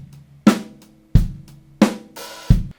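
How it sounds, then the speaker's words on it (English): Rock drum beat played close and solo, steady kick and snare strikes in an even pattern, with an open hi-hat lifted on the and of 4 adding a brief washy sizzle before the downbeat. "Now, the most common place to put a hi-hat open is on the and of 4."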